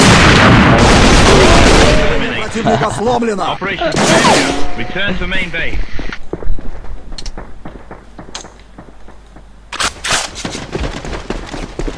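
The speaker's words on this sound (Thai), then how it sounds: "มันยิงรัวขนาดนี้เลยเหรอ" Rapid automatic gunfire in the online shooter AVA, loud bursts of shots mixed with in-game effects and someone talking over it, with the shooting thinning into scattered quieter shots toward the end.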